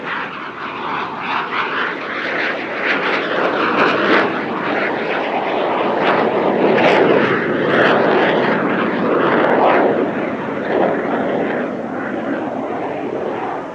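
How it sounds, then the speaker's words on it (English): An AT-339 jet aircraft flies a display at the Dubai Airshow. A loud, sustained engine roar swells and fades gently over about fourteen seconds, with no talk. "these AT-339s are delightfully charismatic aircraft to watch"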